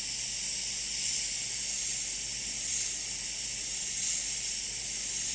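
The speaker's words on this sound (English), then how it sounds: "Some figures I'm going to use an airbrush, my airbrush with the paint." Airbrush spraying paint onto a miniature figure, a steady close-up airy hiss that keeps going without break from start to finish.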